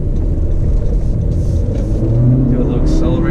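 Turbocharged 2019 Honda Civic Sport Touring Hatchback engine accelerating, a loud low rumble that rises slightly in pitch as the car pulls away, heard from inside the cabin.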